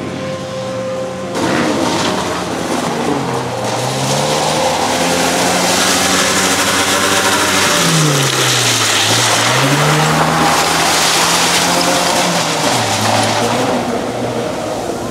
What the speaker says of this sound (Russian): у парней все так же продолжает троить мотор